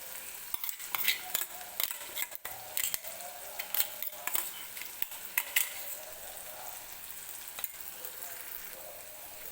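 Green coconut masala paste sizzles in hot oil in a pan for dhaba-style egg curry with tomato, under a steady frying hiss broken by scraping stirs and clinks of a spoon.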